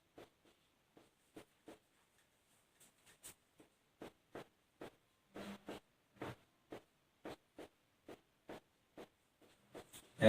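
Writing during a science lesson, heard as a sequence of short, faint scratching strokes with small gaps, close by in a quiet room with no talking.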